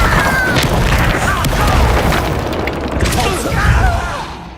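Spell blasts and booming explosions crash through a wizard duel in Hogwarts Legacy, a dense, loud run of impacts and rumbling bursts that carries on without pause, with shouted incantations mixed into the fighting.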